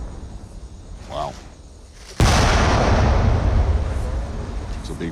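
An unexploded cluster bomb in Laos is destroyed in a controlled detonation. A quiet, breezy moment breaks into one sudden, very loud blast that turns into a long, heavy rumble.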